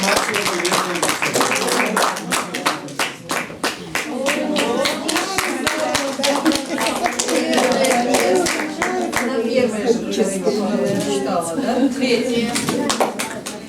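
Applause for an award winner at a republican poetry-reading contest, many hands clapping in a dense, lively burst that carries on steadily, with voices talking beneath it.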